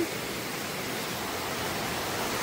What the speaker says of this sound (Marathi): आणि इथं धबधबा म्हणजे